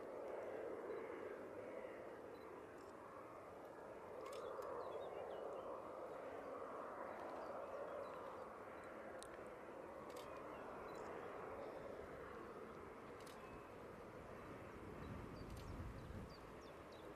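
A distant TUI airliner lands at Manchester Airport, its engines a faint, steady roar that swells and then fades, with light clicks and a low rumble near the end.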